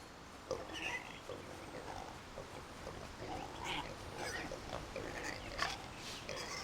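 Pigs oinking in the video game Jade Empire, faint scattered grunts popping up at irregular intervals over a quiet ambient background.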